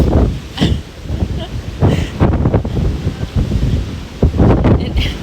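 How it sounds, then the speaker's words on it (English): Loud gusts of wind roar and buffet the microphone in surges in Malaga, Spain, with a person's voice breaking through the rushing noise at times. "It is so windy, I can't even have my hat on."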